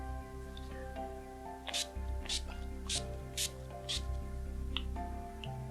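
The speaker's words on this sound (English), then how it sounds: "Then a little bit with the setting spray." Several short hissing bursts of makeup setting spray at irregular intervals, fairly close, over a steady low background hum.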